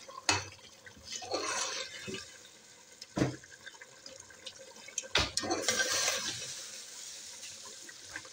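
Meat stock (yakhni) is poured into aloo gosht in a pot, giving two splashy, gurgling bursts of liquid, close by, separated by sharp knocks of the pot and utensil.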